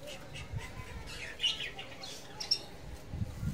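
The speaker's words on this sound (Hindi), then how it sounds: "चिड़िया" Captive finches chirping indoors near a net trap, with scattered high short tweets and a few sharper calls over faint background rustling.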